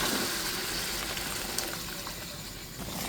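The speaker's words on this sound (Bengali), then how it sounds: "ঝোলের জন্য গরম জলটা দিয়ে দিচ্ছি" Hot water poured into a pan of thin hilsa fish curry with potatoes gives a steady, close rushing pour that fills the whole stretch with no voices.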